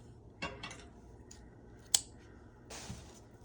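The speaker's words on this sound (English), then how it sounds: "If you have a piece that's like super long, well, you can just cut it in half" Scissors cut a piece of band material in half with a few separate, quiet snips, one sharper than the rest, against a low background.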